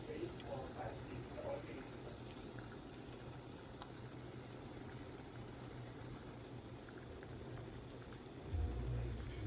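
A pot of sinigang with pompano fish, tomato and black pepper simmers at a steady low boil, a continuous fine bubbling hiss that holds throughout, with a brief low rumble near the end.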